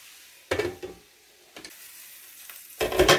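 Casserole ingredients cooking in a pan: a quiet sizzle broken by a few loud bursts of stirring and scraping, the last one longest and strongest.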